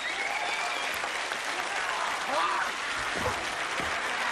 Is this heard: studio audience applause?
yes